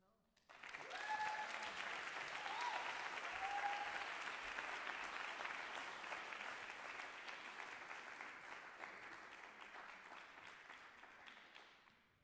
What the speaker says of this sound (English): Give Miss Reverend Smith another round of applause